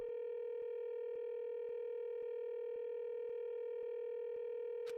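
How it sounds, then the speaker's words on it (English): A telephone ringing tone from a device in a video game, heard after pressing a grape-marked button, a steady, loud electronic tone with evenly spaced regular pulses running throughout and a sharp click near the end. "It sounds like it's connecting somewhere, but no one's picking up."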